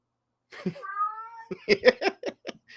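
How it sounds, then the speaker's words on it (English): A cat meows several times in quick succession, a drawn-out call followed by shorter, clipped meows, fairly close and clear against a quiet background. "My cat's meowing maybe at birds out there."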